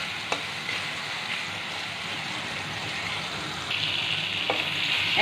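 Onions fry in a pan for a spicy macaroni dish, with an even, close crackling sizzle and a couple of soft clicks.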